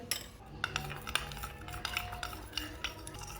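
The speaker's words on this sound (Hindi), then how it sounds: "कस्टर्ड को मैंने अच्छी तरह मिक्स कर लिया।" Spoon clinking and scraping against a bowl while mixing pink custard powder into a little water, with a quick, uneven rhythm of small knocks, close and fairly quiet, with no talk.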